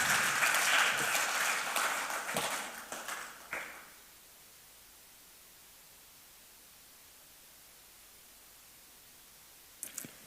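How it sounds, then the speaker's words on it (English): Audience applause at the opening ceremony of Aquaculture Ghana 2023, loud at first, then thinning out and fading away, followed by near silence with a brief clatter at the end. "With a round of applause, please welcome Deaconess Ariola."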